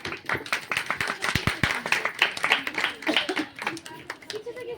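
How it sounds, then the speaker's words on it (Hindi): Devotees clapping their hands at a Hindu religious discourse, a lively run of sharp claps close by, mixed with voices throughout. "ताली बजाए जोरदार से सभी भगत।"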